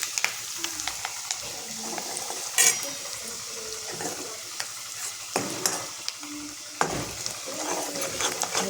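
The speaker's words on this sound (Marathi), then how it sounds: "हे चांगलं परतून घ्यायचं." Turmeric and coriander powder being sautéed in a pan, sizzling continuously while a utensil scrapes and stirs in irregular bursts, with occasional louder clatters against the pan.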